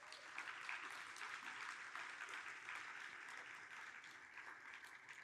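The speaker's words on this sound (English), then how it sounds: "Let's give the RustConf organizers and all the incredible volunteers a giant" Sustained audience applause at a RustConf 2023 tech conference, honoring the organizers and volunteers; steady, dense clapping from a large crowd filling the room, even throughout with no speech over it.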